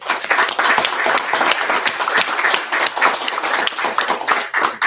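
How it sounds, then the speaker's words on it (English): An audience at a school district board meeting breaks into sustained applause, a loud, dense wash of many hands clapping evenly throughout. "a big round of applause for the good work they do"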